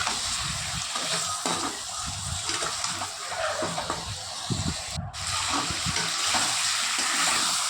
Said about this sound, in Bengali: তারপর দেখো আদা জিরে আর কাঁচা লঙ্কা বাটা যেটা বেটে নিয়েছিলাম সেটা দিয়ে দেব। একসঙ্গে এবার সুন্দর করে কষিয়ে নেব।